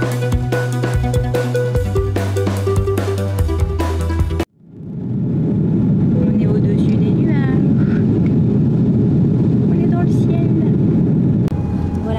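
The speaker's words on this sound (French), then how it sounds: "Deuxième décollage de la journée" A passenger airliner on its second takeoff of the day: after an abrupt cut, a loud, steady roar of engines and rushing air fills the cabin, continuous and close.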